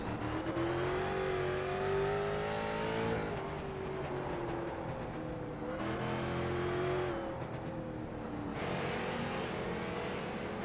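Race cars circling a figure 8 track with open setups, engines droning loudly and continuously, revving rising and falling as cars pass through corners, no voices.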